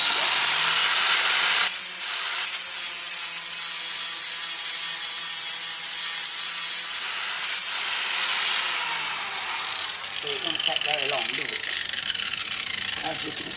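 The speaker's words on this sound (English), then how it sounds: "now I'm just going to touch up the edge, sharpen them up with this, with the flap disc" Flap disc on an angle grinder sharpening the edges of an axe and a cleaver, a steady loud abrasive whine running for several seconds before easing off into quieter grinding and scraping toward the end.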